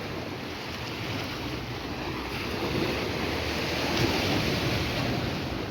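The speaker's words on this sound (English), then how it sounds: "This will be back to Folkestone Beach." Surf rolling onto Folkestone Beach in Holetown, St. James, Barbados, a continuous broad wash of waves mixed with wind buffeting the microphone, swelling slightly louder midway, no voices.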